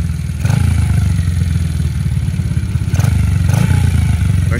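A small manual hand-clutch motorcycle, a minibike, idles and runs steadily up close with a low, throbbing engine note and faint mechanical clatter, with no talk over it.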